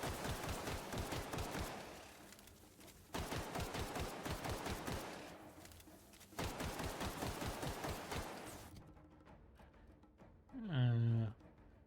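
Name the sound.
gunfire in video game The Outer Worlds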